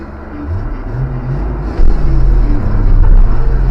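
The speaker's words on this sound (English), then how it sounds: "Dumping the clutch." A hot rod at a festival car show launches as the clutch is dumped, its loud, deep engine rumble swelling abruptly midway into a heavier, sustained roar close by.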